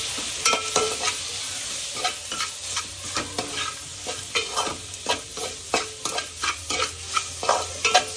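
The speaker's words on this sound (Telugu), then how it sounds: "కొంచెం పసుపు, 1 స్పూన్ ధనియాల పొడి వేసి కొంచెం వేగనివ్వాలి." Turmeric and coriander powder frying in a pan for street-style pani puri filling, a steady sizzle broken by repeated scraping strokes of a spoon stirring at a regular pace, close and moderately loud with no talk.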